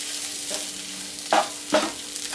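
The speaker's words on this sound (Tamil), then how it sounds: "நல்லா சேர்ந்து கலந்து வர்ற மாதிரி நல்லா கிளறி விடணும்" Potato and spice masala mixture for bonda is stirred in a hot pan, giving a steady frying sizzle. Two sharper scrapes of the spoon stand out against the pan.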